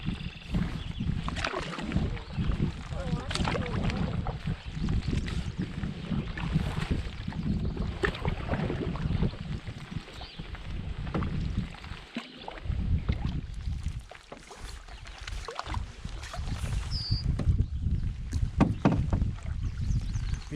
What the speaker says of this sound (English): Need you to paddle so we get over this beaver dam